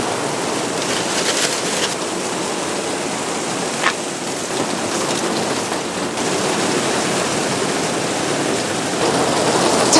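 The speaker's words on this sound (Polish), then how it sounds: "teraz to dopiero leje" Heavy rain pours down steadily outside near a garden, a loud, dense and continuous hiss with no breaks.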